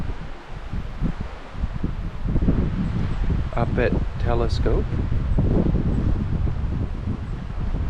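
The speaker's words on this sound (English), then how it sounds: "In the morning, it's a little windy." Wind gusting steadily across a lakeside campsite in Woodland Caribou Provincial Park on a windy morning, a broad rustling roar with leaves stirring throughout, while people talk briefly over it.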